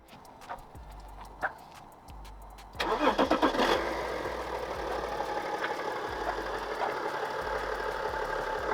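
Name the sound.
BMW 335d diesel engine starting, knocking sound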